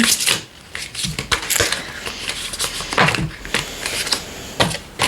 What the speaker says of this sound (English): I'm going to shuffle it a bit more